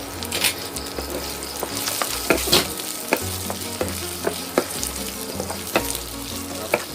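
Liver sizzles and crackles steadily in hot oil over low heat, set aside from a chili-and-salt stir-fry, with sharp pops and stirring clicks close by and no talking.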